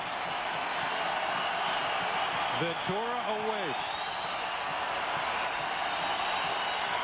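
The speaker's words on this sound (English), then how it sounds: "The noise in the crowd begins to swell as Crescent gets ready." Crowd at a 2002 Twins baseball game in extra innings makes a steady, broad roar that holds throughout, with a broadcaster briefly talking over it midway.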